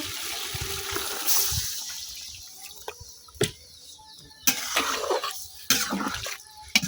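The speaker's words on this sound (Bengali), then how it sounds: "এখন আমি দিয়ে দেব পানি" Water is poured into chicken curry cooking in a pan, giving a close, splashing liquid rush with a few clattering knocks of the pot and spoon, moderately quiet and with no voices.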